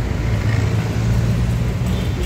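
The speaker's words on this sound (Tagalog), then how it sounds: "Tingnan mo yung traffic oh." Heavy rush-hour road traffic on Quezon Avenue in Quezon City, a steady dense roar of cars, buses and trucks with a deep low engine rumble, loud and continuous, with no talk.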